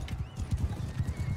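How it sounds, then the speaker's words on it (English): Horse hooves clip-clopping in the video game Mount & Blade 2: Bannerlord while riding toward a tournament, a quick steady galloping rhythm of soft low thuds, close and fairly quiet, with no talk. "I'm on a horse."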